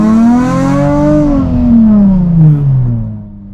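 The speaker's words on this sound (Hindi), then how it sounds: "मैं गाड़ी की आवाज़ सुना सकूँ अपने माइक के थ्रू इन लोगों" A Nissan 350Z engine revs up and holds a steady, loud tone with strong rising and falling harmonics, then eases down as the revs drop, heard close and alone.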